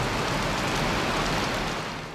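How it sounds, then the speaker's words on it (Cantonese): Heavy rain pours steadily on a Hong Kong street on Hennessy Road in Wan Chai during a yellow rainstorm warning and thunderstorms, a dense continuous hiss that stays loud throughout and eases slightly near the end. "喺灣仔軒尼詩道雨勢頻密"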